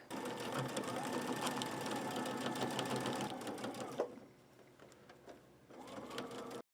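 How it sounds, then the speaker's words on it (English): A sewing machine stitches along a pressed fabric edge on a manicure bag, running steadily and close for about four seconds. It stops, then starts again briefly near the end. "I'm going to stitch that right along that pressed edge"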